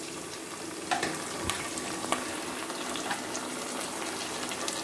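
Onions fry in hot oil alongside curry leaves and ginger-garlic paste, a quiet even sizzle with a few soft clinks and stirring taps, close but faint, and nobody speaks.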